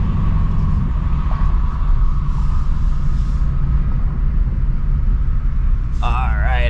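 A 2024 Ford Mustang GT with stock exhaust drives at night, its engine giving a steady low rumble throughout from inside the cabin, with a brief higher tonal sound near the end.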